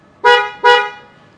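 Replacement horn on a Honda Civic Type R FL5 sounds two loud, close, clear honks in quick succession, each fading briefly, with no talk.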